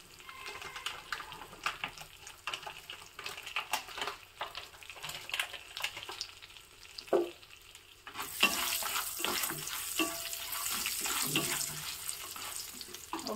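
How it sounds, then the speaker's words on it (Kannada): Tempering of curry leaves, cut dried chilli and cashews in oil for brinjal rice: scattered clinks and light stirring give way to a loud, sustained close sizzle. "ಒಗ್ಗರಣೆ ಹಾಕ್ತಾ ಇದೆ."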